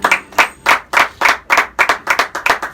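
A church congregation claps together in a steady rhythm of about ten sharp, loud bursts, with no talking over it.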